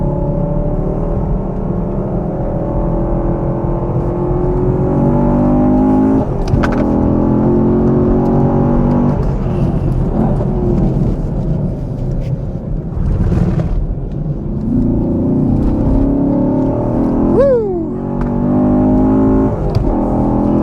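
A Mustang Mach 1 or Camaro SS 1LE with a manual gearbox drives a race track in second gear through a long corner, its engine droning loud and close, rising and falling in pitch with a quick upshift near the end.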